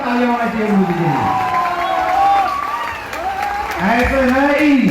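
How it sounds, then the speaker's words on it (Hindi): An audience at a spiritual gathering in India applauds loudly for their guru, a steady wash of clapping from the crowd heard under a voice speaking over it. "मैं चाहता हूँ एक जोरदार तालियां होना चाहिए गुरु जी के लिए।"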